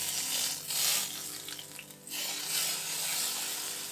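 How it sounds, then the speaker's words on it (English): A steady, broadband hiss and crackle of garlic and chili sizzling in oil at about 160 Celsius, close and continuous, swelling slightly at moments with no talking. "That's the sound of the garlic and chili waking up."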